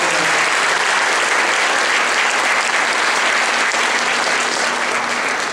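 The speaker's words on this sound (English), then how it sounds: "To all of our alums who come back time and time again, if you're in the audience, please stand." A full round of applause fills the hall at the West Haven High School 2016 Christmas concert for the theater and choral directors, with many hands clapping in a dense, steady roar that eases off slightly at the end.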